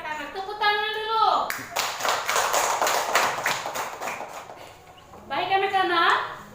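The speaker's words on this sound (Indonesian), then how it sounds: "Baik anak-anak, tepuk tangan dulu." Elementary schoolchildren clap their hands together in a quick, even rhythm in a classroom. A voice speaks just before and right after the clapping.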